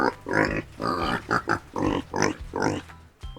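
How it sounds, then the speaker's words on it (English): A pig on a farm grunts and oinks in a series of close, distinct bursts with short pauses between them, clear and alone. "It's a pig."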